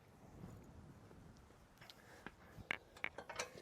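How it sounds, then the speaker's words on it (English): A Young Electric 3 e-bike rack with ramp drops down after its cotter pin is pulled: a quiet stretch, then a quick run of sharp metallic clicks and clanks near the end. "to lower the rack, pull out the cotter pin, and the pin, it'll come down"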